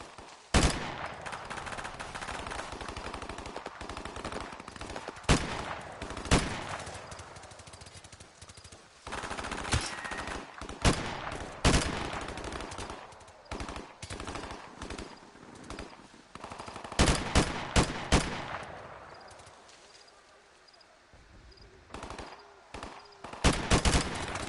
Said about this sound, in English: Start shooting shit, fuck it.